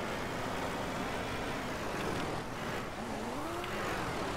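A vehicle driving through the video game Ranch Simulator, its engine a steady, fairly faint continuous hum and rumble with a rising and falling pitch as it accelerates, no talk over it.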